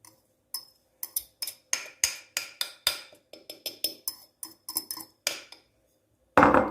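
Sourdough bread dough with whole grain flour being mixed in a bowl, a quick run of sharp clinks and taps of a utensil against the dish, about two dozen irregular strikes, then a louder scraping burst at the end.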